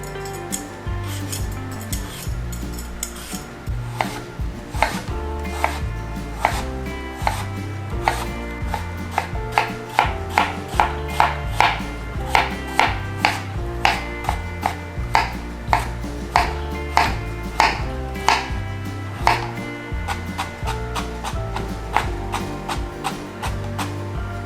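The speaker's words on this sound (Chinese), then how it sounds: "红萝卜跟苹果切成丝状" A knife chops carrot and apple into fine shreds on a cutting board, producing a steady, fast run of crisp near taps that keeps going throughout, with no voice.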